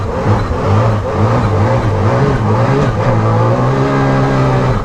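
A Can-Am Maverick R UTV engine roars steadily up close, its revs rising and dipping as the transmission shifts and hunts between gears, loud and continuous with no talking.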